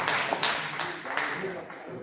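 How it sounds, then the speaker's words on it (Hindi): An audience at a mushaira gives a brief round of applause to welcome poet Maqsood Jalib, with a few sharp, close claps standing out over softer clapping that fades quickly. "तालियों से इस्तकबाल कीजिए मकसूद जालिब साहब"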